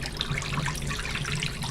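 Water pours and splashes steadily from an Avalon Bay Eco Spinner as it is emptied after washing alpaca fiber, a close, continuous trickling gush with no voices.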